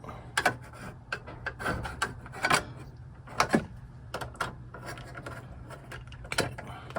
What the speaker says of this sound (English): So there's 2 screws in here, and they just need loosened